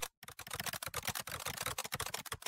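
Rapid typing on a computer keyboard in a dense, continuous clatter of close keystrokes, after a brief pause near the start.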